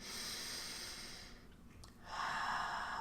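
A slow, deep breath drawn in through the nose and mouth during a guided relaxation, a soft airy hiss that pauses briefly and then swells into a fuller inhale, close and clearly heard.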